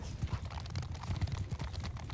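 Horses gallop in Mount & Blade 2 Bannerlord with a rapid, rhythmic drumming of hooves. It sounds close and steady throughout, and no voices are heard.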